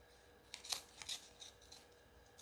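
Scissors snip through doily paper wrapping, a few quiet, crisp cuts at an uneven pace, close and faint against a soft room hush.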